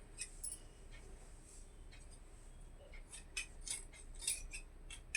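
Scissors snip through old nightie fabric in a handful of faint, sharp cuts, quiet and close, with a few scattered clicks over a low background hum.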